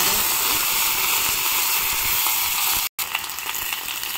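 Dried red chillies, mustard seeds and urad dal sizzling in a spoonful of hot oil, a steady close frying hiss with a brief dropout near the end.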